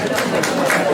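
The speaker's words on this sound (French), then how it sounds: "on peut l'applaudir" An audience at a French gesticulated conference on tax havens claps and cheers in a dense, continuous burst of applause layered with overlapping voices.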